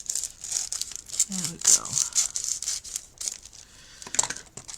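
A crinkly plastic craft card packet being opened by hand, with close crackling and tearing rustles in bursts while a person talks briefly over it.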